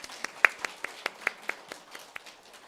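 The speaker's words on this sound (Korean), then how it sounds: "저는 정말 준비위원장님께 박수를 보내고 싶습니다." Scattered, sparse clapping from a small audience at a Korean women theologians' association 40th anniversary lecture, about a dozen distinct claps in an uneven rhythm, fairly close and moderately quiet.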